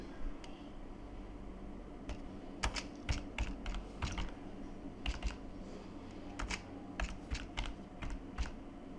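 Someone types a pip install command for a MySQL connector on a computer keyboard, with quick irregular clusters of crisp key clicks close by over a steady background hiss and no voice.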